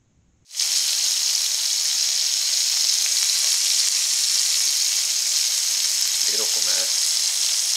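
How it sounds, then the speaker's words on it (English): Three pieces of mahi mahi fish laid into a hot pan with a little olive oil: the sear bursts on suddenly and holds as a loud, steady sizzle with no voices, and a few soft clinks come near the end. "start off with a nice hot pan so that you can go instantly to searing the fish"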